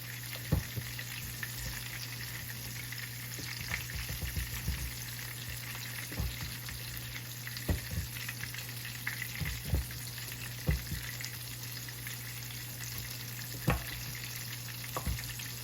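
Breaded pork chops dredged in buttermilk, egg and flour frying in a pan, a continuous oily sizzle with scattered sharp pops and crackles throughout, close and steady with no talking.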